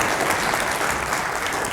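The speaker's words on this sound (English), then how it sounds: "I think that's definitely worth some applause." A crowd at the city of Kent's State of the City address applauds steadily, a dense wash of clapping hands that stays loud and even throughout without a pause.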